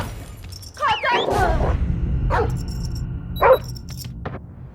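Dog barking amid Call of Duty Mobile gameplay in a Frontline match, a few sharp yips over game noise and gunfire-like rumble, with players talking.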